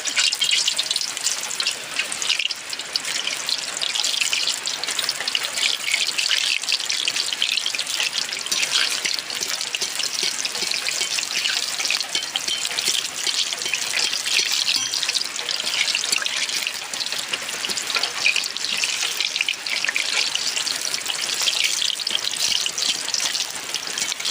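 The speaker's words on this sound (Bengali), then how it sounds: "বৃষ্টি চলে এসছে বন্ধুরা" Rain pours down outdoors during cooking while eggplant fritters fry, a dense, unbroken hiss of falling drops holding at the same level throughout with no voices.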